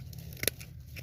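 Scissors snip through woody thyme stems during pruning of a wooly and lemon thyme plant, a single sharp close cut standing out over a quiet low hum.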